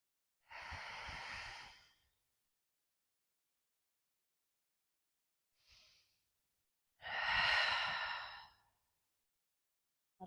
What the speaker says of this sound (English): Let's take 3 deep rounds of breath here.